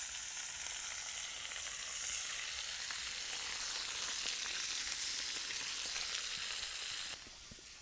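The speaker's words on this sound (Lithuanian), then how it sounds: "Mėsytė irgi baiginėja kept." Burger meat patties fry in a pan with a steady, dense sizzle and crackle that runs unbroken, then drops slightly quieter just before the end.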